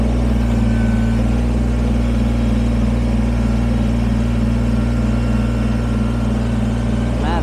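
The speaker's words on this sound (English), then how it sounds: "Take my tractor for a ride to get the mud out of the tires" Kubota BX23S sub-compact tractor being driven, its engine running at a steady, loud, low drone throughout, close by and alone with no talking.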